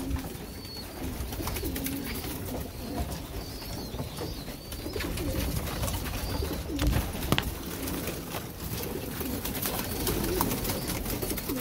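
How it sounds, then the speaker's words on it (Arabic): Pigeons raised for production coo repeatedly while being fed, their soft rolling calls close and continuous over a busy background of rustling and fluttering, with no clear speech. "نوكلو الحمام ديال البروديكسيون ان شاء الله باش نشوف فيه الجوع مسكين"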